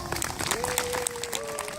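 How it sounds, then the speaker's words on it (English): Applause from an audience at a World War II event at the Indiana Military Museum, a steady wash of clapping hands with a tone sustained underneath, fairly close and moderately loud throughout. "give these guys a round of applause"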